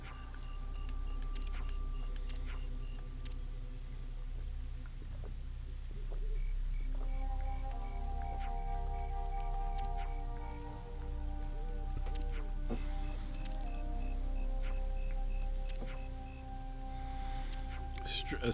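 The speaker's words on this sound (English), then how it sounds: "We found rain." Rain falls in the Xenoblade Chronicles 3 video game as a steady, even hiss that runs the whole time. Soft game music tones and occasional voices sit over the rain.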